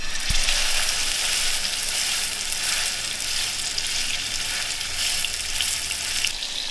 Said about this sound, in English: we're only looking to sear it on all sides